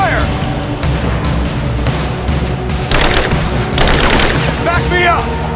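Rapid automatic gunfire in Rise of the Tomb Raider, sharp cracking shots in quick bursts over a constant rumbling battle bed, loud and close, with a short shouted voice near the end.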